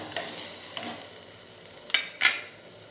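Greens and manathakkali (black nightshade) berries are sautéed together in a pan. A soft, steady sizzle runs underneath, and two sharp scrapes and clinks of a stirring utensil come near the end.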